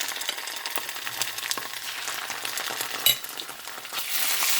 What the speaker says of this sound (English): Be careful if you're using the paste because it's going to sputter.